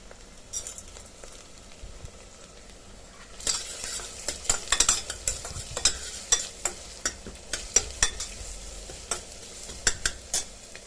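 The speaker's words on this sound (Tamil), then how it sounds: "வெங்காயம் வதங்கும் போது 3 பச்சை மிளகாயும் சேர்த்துடலாம். நல்லா வதங்கணும்." Onions and green chillies sautéing for basmati rice biryani, a steady sizzle under repeated scrapes and clinks of a spoon stirring in the pan, close and continuous.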